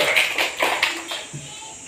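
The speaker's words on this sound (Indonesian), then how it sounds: "Tepuk tangan untuk kelompok 2." A classroom of children claps for a group, a short burst of brisk hand claps that quickly thins out and fades within about two seconds.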